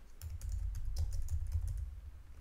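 Rapid typing on a computer keyboard while entering text in a motion-graphics template, a steady stream of soft, close clicks over a low hum, with no talking.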